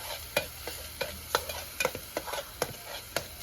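Onion and a grated coconut mixture stirred in hot oil in a pot over a wood-fired stove, a sizzling hiss broken by repeated sharp scraping strokes of a spoon against the metal.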